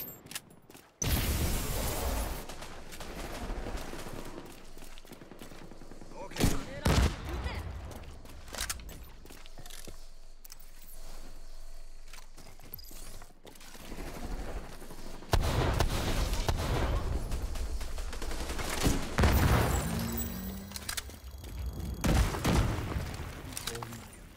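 Gunfire in The Division 2 comes in loud bursts and sharp cracks spread across the clip, with some mechanical clatter between volleys and a quieter stretch in the middle.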